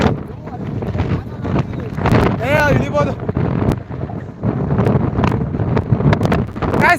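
Strong wind buffets the microphone at a hilltop viewpoint near the Betta Byraveshwara temple in Sakleshpur, a loud, steady roar with gusts throughout, and a voice is briefly heard partway through.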